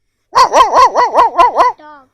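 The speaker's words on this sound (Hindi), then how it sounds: "डॉग, डीओजी डॉग, कुत्ता भी दिखाई रहा है।" A dog barks seven times in a quick, steady run, loud and close, with a short trailing whine at the end and no one talking over it.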